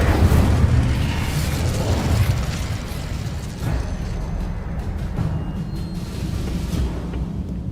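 A fire spell is cast in Hogwarts Legacy, producing a loud, sustained whooshing roar of flame with rumbling low bursts throughout, dense and continuous without speech.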